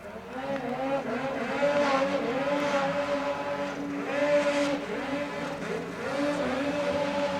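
Turbo snowmobiles and a 9R snowmobile race through snow, their engines droning loudly and close with rising and falling pitch as riders throttle on and off, continuous and overlapping.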